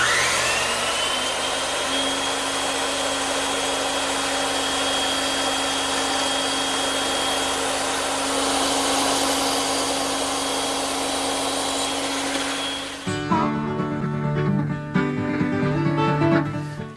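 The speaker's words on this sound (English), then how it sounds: "Now I just have to trim up the tenons using the bandsaw." A bandsaw cuts tenons on 2x4 lumber for a garden bench, a loud steady whine and broadband rush running continuously for about thirteen seconds before the tone shifts abruptly into a rougher, uneven blend of cutting and motor noise.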